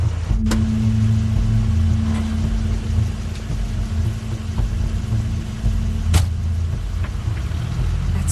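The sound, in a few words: car engine of Crane's car in The Wolf Among Us video game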